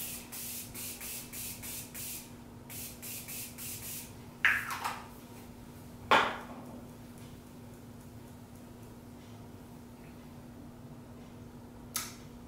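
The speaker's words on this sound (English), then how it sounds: "I'm gonna go in with my Morphe Continuous Setting" Morphe Continuous Setting Mist sprayed onto a face: a run of short, rapid pump hisses, followed by a few louder single sprays spaced apart, close and fairly quiet with no speech.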